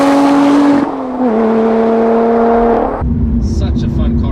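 Lotus Evora 400 sports car engine droning steadily at speed, pitch shifting with gear changes, then dropping off near the end as it eases, heard from inside the cabin.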